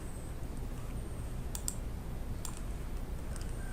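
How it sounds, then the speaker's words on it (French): Computer mouse clicking while zooming a digital school textbook, a few faint, sharp clicks in quick pairs over a steady low background hum, with no talk. "Pour zoomer, on clique ici"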